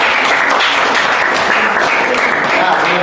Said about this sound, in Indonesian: tepuk tangan dulu buat Jana